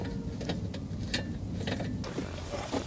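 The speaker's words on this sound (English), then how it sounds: "Put your 10mm nuts back, and then just go ahead and tighten them up all the way" A ratchet tightens 10mm nuts on the floor air duct of a 2003-2020 Chevy Express van, its rapid clicking pawl heard up close in short bursts over a steady low mechanical hum, with no talking.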